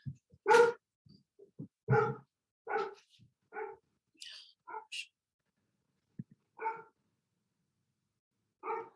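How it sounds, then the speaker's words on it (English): A dog barks excitedly at home after a doorbell rings, letting out a run of sharp, loud barks in uneven bursts with short gaps between them and no talking. "The doorbell rings and the dog goes crazy."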